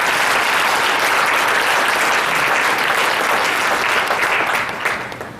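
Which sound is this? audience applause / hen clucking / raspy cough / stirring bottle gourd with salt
audience applause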